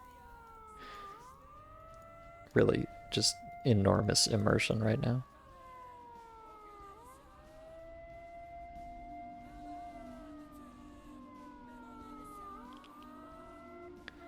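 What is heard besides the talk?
piercing siren in a video game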